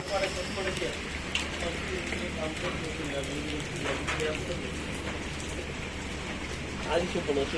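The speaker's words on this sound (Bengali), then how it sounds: "এমন ভাবে বৃষ্টি হইতেছে মালদ্বীপের মধ্যে" Heavy rain pours onto a street in the Maldives, a steady, dense hiss of drops hitting the pavement that continues unbroken and fairly loud from start to finish.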